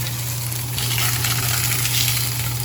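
Yellowtail fillet frying in an uncoated pan gives a steady, close, bright sizzle with a constant low hum underneath, even and unbroken throughout.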